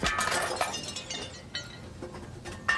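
A pane of glass breaking while repairing a storm window in a workshop, with a sharp crash up front, then scattered tinkling shards and a second smaller clink near the end.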